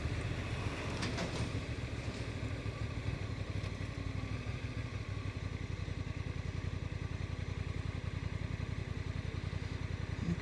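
Honda NT1100 touring motorcycle with DCT on a test ride, a steady loud engine drone and wind rush filling the whole stretch, with a rapid rhythmic pulsing in the low end and no talking.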